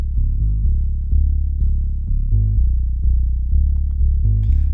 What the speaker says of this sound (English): We've then layered it with this bass, so that sounds like this.